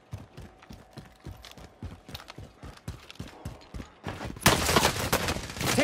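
Gunfire in the video game Warzone, a run of sharp spaced shots that builds into a dense, loud burst of rapid fire toward the end, heard alone without talk.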